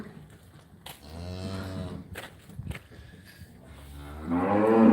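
Cattle in a muddy feedlot mooing, several long, drawn-out lows from nearby animals with a loud close one at the end, over faint shuffling and no talking.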